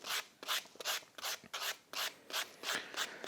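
Close, rhythmic sanding strokes rasp against the edge of a wooden toy part, about ten quick back-and-forth passes with short pauses between.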